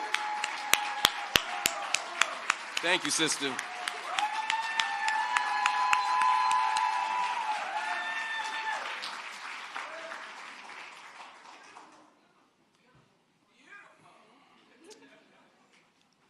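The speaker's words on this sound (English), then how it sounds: "Give her a round of applause." Applause greets Miss Black USA at a Malcolm X commemoration: sharp claps give way to a swelling round under a few brief spoken words, fading out around twelve seconds before quiet.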